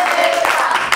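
A brief burst of studio audience applause for a contestant on a children's quiz show, loud and close, lasting only a moment.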